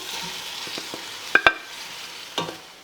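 Shredded chicken is stirred into a pastilla filling in a pan with a soft sizzle, scraping strokes and a couple of sharp utensil clinks against the pan, with no voices.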